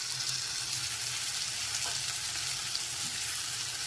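Softened chopped onions fry in a pan as tomato paste goes in, producing an even sizzling hiss with a faint scrape or two, moderately loud and without any talking.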